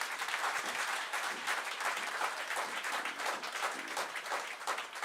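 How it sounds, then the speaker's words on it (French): A church congregation at an online worship service breaks into loud, sustained applause that fills the whole stretch evenly, with dense clapping and no pause. "Acclamons très fort le Seigneur"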